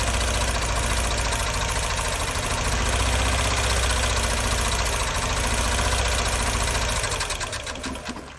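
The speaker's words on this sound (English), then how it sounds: "this is more or less how you can find out which cylinder is misfiring" A Mini Cooper R50 engine idles with a cylinder misfiring, making a loud, close, steady mechanical rattle and thrum that runs throughout and fades slightly at the end.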